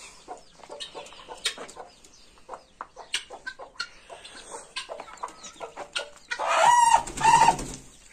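Aseel chickens on a home farm, with soft scattered clucks and pecking sounds close by, then a louder run of calls near the end.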